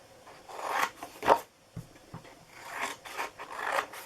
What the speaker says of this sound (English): let me just trim this out so it's easier to work with.